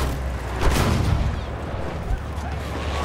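Video-game gunfire in a war shooter with paratroopers and machine guns, a dense dull rumble of distant shots and booms running steadily throughout, no distinct single reports standing out.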